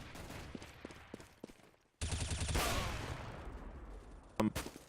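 Counter-Strike gunfire on the map Cobblestone in a mousesports versus Virtus.pro match: faint scattered shots, then a sudden loud burst of rapid fire lasting about a second, followed by a fading rumble and another sharp shot near the end.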